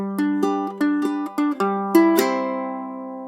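Plucked low G tuned ukulele notes form the brief intro riff of a song with deep low strings, a few quick notes then a strummed chord left ringing to fade.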